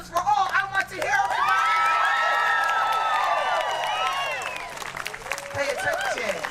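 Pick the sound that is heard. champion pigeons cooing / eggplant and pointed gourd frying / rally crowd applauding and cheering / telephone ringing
rally crowd applauding and cheering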